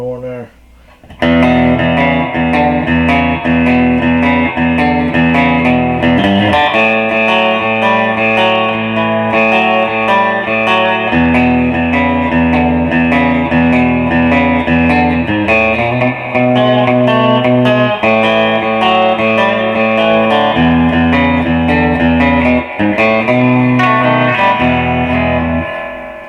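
A 2023 Squier Sonic Series Mustang electric guitar in two-tone sunburst plays a lick and short phrases through a clean tone with no distortion, bright sustained notes and chords ringing loud and upfront without pauses.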